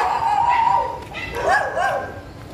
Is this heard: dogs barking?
yes